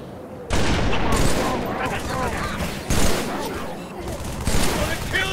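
Dense gunfire in the Halo 3 video game, with rapid overlapping bursts and booming shots that start abruptly and carry on loud and nearly continuous, swelling in several heavier volleys.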